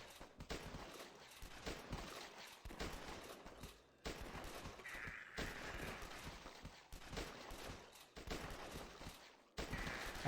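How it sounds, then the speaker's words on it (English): Gunfire in the zombie-shooter flash game The Last Stand: sustained rapid volleys of shots in dense bursts with brief gaps, loud and continuous throughout. "these gun sounds"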